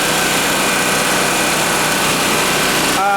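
An Onan AJ 1R generator engine runs steady and even while powering a light, a constant close mechanical drone without pauses, with a brief clatter at the very end.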